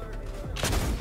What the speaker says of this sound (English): I'm shooting my shotguns like a psycho.